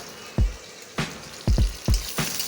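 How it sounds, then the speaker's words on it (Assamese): Onion and green chili fry in a pan with a steady sizzle, broken by several sharp clanks and scrapes of a utensil against the pan, close and fairly loud, with no talking. "এতিয়া হৈ গ'ল পিঁয়াজ জলকীয়া ঢালা"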